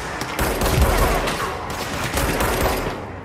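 Loud, sharp rifle shots from sniping in a horror video game crack out amid dense, continuous game noise, with several distinct reports spread across the short stretch. Faint voices sit beneath the shots.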